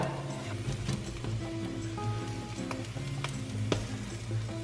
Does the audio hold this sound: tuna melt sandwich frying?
yes